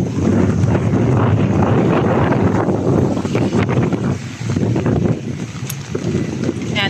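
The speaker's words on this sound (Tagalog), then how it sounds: "grabe, ang lakas ng hangin" Strong typhoon wind roars and buffets the microphone continuously on a Divisoria street in Manila, loud and gusty, with a voice partly buried beneath it.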